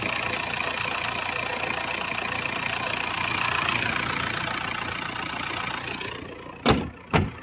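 Isuzu TFR Dragon Eye pickup engine idling steadily, a continuous mid-range hum that runs evenly for several seconds before two short loud bursts near the end.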